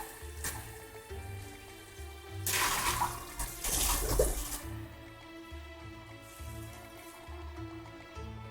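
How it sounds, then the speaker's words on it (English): Tap water runs into a sink while a kitchen mixer is rinsed out, a steady faint trickle that swells into a louder splashing gush midway before settling back to a quiet flow. "Rinsing out the mixer so it doesn't get too set."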